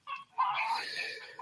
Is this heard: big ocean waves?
no